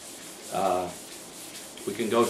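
A power sander smoothing the surface of a homemade clayboard, two short rough rubbing bursts separated by a pause.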